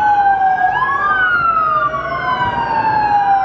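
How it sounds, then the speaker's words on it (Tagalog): A fire truck siren wails loudly on a near-empty city street at night in Adelaide, its rising and falling tone sweeping continuously and close by, with no talking. "May fire truck pa."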